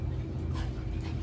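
A dog at its first veterinary checkup whimpers softly and pants close by over a steady low hum, with faint voices in the room.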